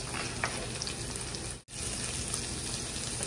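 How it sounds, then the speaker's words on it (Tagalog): Onion and garlic sautéing in a pan for pork chicharon Bicol Express give a steady, close sizzle with faint crackles, broken by a brief dropout near the middle. "saute your onion. And some garlic."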